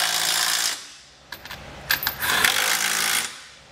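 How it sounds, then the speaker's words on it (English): Socket wrench with a 17mm socket tightening the lower bolts of a trailer hitch receiver on a 2020 Kia Telluride, giving a short run of ratcheting clicks and metallic taps at close range, with no voices. "We're going to start with the bottom using a 17mm socket."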